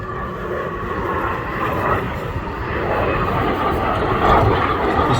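A Strikemaster Mark 5 light jet attack aircraft flies at an air display, its engine a steady broad roar at a distance that swells gradually louder toward the end.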